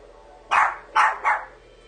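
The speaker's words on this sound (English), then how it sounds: "I had to stop because, like I said, Daisy was barking." A dog barks three times, close by and loud, two sharp barks and then a quicker third, in a quiet indoor room.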